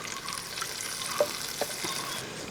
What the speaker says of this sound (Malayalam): ഒന്ന് ഇളക്കി കൊടുക്കട്ടെ